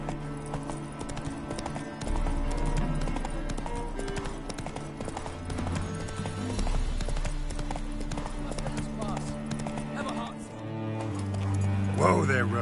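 Hooves of the horse Roach clip-clop at a trot in The Witcher 3, a steady rhythmic beat over game music, with voices speaking over it.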